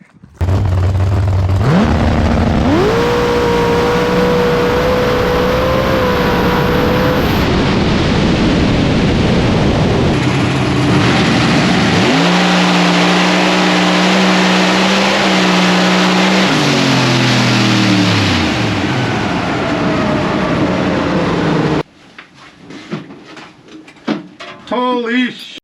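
A race car blasts past at speed while testing at Grove Creek, its engine revving hard in loud sustained surges with pitch shifts as it accelerates and passes, then cutting off to excited shouting and talk from onlookers.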